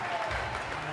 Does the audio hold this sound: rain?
no